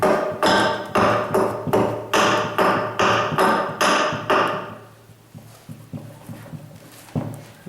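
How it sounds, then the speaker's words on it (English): Axe shaving heartwood on primitive bow limbs outdoors: about ten loud, evenly spaced sharp chopping strikes in quick rhythm, then quieter, scattered scraping and tapping. "Now we're gonna work on shaving it."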